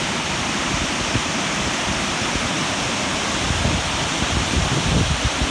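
Ebor Falls, the Upper Falls, roars as a steady broadband rush of falling water, loud and continuous with no voices over it.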